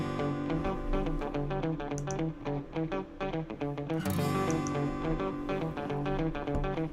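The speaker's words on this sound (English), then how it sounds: "with the Telecaster panned to the right and the acoustic panned to the left, sounds like this" Telecaster electric guitar and acoustic guitar strummed together, spread hard left and right, a steady rhythmic chord pattern playing continuously at full level with no voices.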